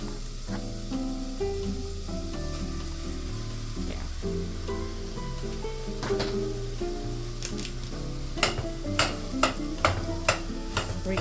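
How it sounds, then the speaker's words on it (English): Ground turkey fries in a pan with a soft, constant sizzle and shuffling stirring. It ends in a quick run of sharp utensil clacks against the pan. "And fry up our turkey."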